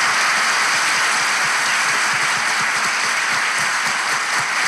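A studio audience on a Turkish relationship-quiz talk show breaks into loud, sustained applause, thick, even clapping that fills the whole stretch without voices.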